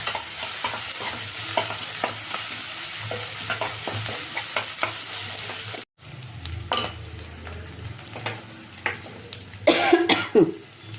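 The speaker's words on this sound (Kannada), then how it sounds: "ಶುಂಠಿ ಬೆಳ್ಳುಳ್ಳಿ ಪೇಸ್ಟ್ ಚೆಂದಾಗಿ ಎಣ್ಣೆನಲ್ಲಿ ಫ್ರೈ ಆಗಲಿ" Ginger garlic paste fries in oil for a vegetable gravy, giving a steady close sizzle broken by stirring scrapes. It cuts out briefly midway, then returns with louder clatter near the end.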